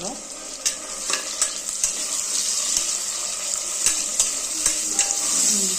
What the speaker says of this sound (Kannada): ಇವೆಲ್ಲ ಚೆನ್ನಾಗಿ ಫ್ರೈ ಆಗಬೇಕು.